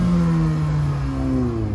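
A Mercedes AMG car engine revs hard and close at a Friday night car meet, a loud, deep, sustained growl that rises and falls in pitch.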